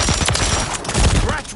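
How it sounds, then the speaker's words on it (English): A stun grenade goes off in Call of Duty with a loud, close burst of rapid crackling blasts that barely lets up over its short span. "Throwing a stun grenade!"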